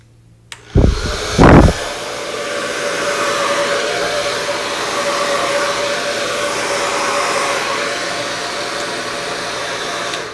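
A hair dryer clicks on and blows hard over poured resin for a Dutch pour beachscape. The steady loud whooshing roar follows two short bursts at the start and runs alone to the end.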